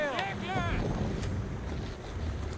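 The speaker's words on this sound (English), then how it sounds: "Let's open up the sail." A sailing boat in the video game Assassin's Creed Valhalla moves over water, with a low rushing wind and water wash running steadily throughout, a brief whistling tone near the start.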